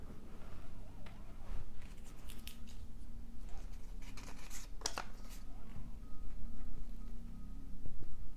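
Scissors snipping paper for a red and gold collage, soft close crinkles and a few crisp cuts at a quiet, intimate level with light handling rustle between them.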